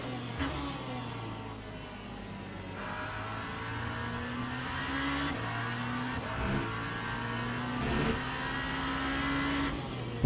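Race car engine in the Le Mans Ultimate racing game, a continuous high-revving roar with rising pitch sweeps broken by abrupt gear shifts, loud and steady throughout with no talk.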